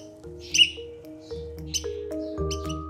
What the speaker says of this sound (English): that high pitch call, that's really kind of iconic of the oyster catchers